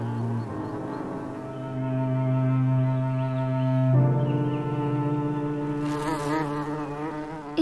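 A forager bee buzzes steadily close by, a sustained droning hum that shifts pitch midway and stays loud and continuous throughout.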